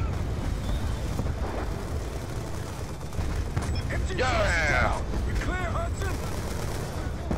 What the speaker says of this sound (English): Those are kind of very ineffective mortars, though.